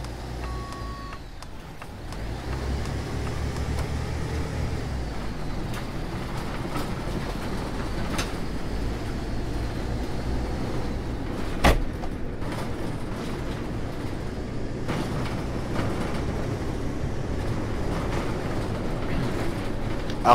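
A MAN Lion's City A40 GL articulated city bus in OMSI 2 pulls away with a steady, loud diesel engine drone and rumble. A brief clunk lands midway, and no one speaks.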